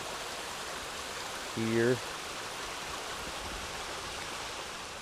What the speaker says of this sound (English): And here's a little shot of the river.